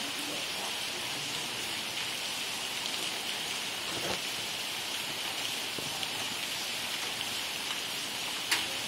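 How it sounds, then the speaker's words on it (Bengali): Winter rain falls steadily in Satkhira, a dense, even hiss of drops on surfaces with a few faint thumps, no voices. "শীতের মাঝে বৃষ্টি হচ্ছে সাতক্ষীরায়,"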